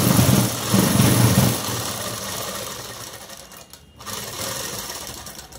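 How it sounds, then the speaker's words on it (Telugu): An electric sewing machine runs in fast bursts while stitching the lining of a blouse, a close, steady mechanical whir that briefly stops and then resumes at a lower pace. "లైనింగ్ మీద మాత్రం వేసుకున్న తర్వాత ఇప్పుడు అనేది ఇలా కుట్టు అనేది వేసేసుకోవాలండి"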